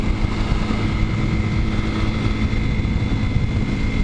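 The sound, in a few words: 230cc dual sport motorcycle riding at 57 mph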